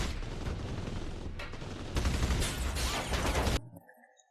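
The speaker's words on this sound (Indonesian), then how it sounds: "Aksi tembak-tembakan pun terjadi" Rapid bursts of gunfire crackle in a dense, chaotic film shootout, intensifying midway before cutting off abruptly into a fading echo.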